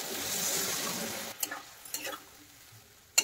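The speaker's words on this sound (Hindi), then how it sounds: "कुछ पानी ऐड करछि।" Water is poured into a pan of mustard rohu fish curry with potatoes and green chillies, a brief hissing sizzle followed by a few light clinks and scrapes of stirring.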